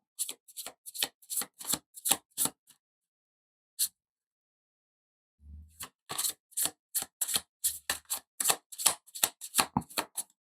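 Rapid riffle-shuffling of tarot cards, crisp bursts of flicking in quick rhythmic runs, a pause with a soft thump, then more steady shuffling up close.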